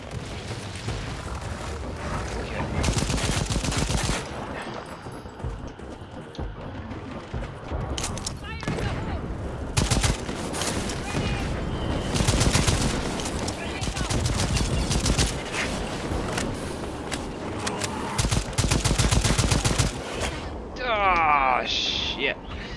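Dense, sustained gunfire in the shooter Second Extinction, with heavy automatic bursts and booming impacts hammering almost continuously and only brief lulls, while someone talks over the din.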